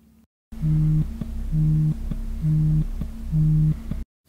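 A phone busy signal: four evenly spaced beeping tones repeat in a steady on-off rhythm over a low electronic hum, loud and close, with silence before and after.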